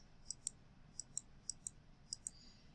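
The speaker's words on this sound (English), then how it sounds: "So I am just clicking and letting go with my mouse." Computer mouse buttons click sharply in quick pairs, about four double clicks spaced evenly, close and crisp against a quiet room with no talking.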